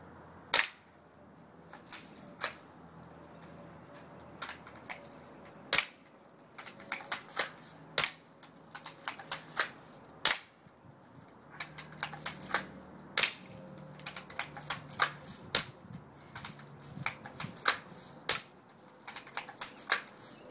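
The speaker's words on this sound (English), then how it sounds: "This is the BB gun." BB gun fired repeatedly, sharp snapping cracks coming singly and in quick bursts with uneven gaps between them, fairly close against a quiet background.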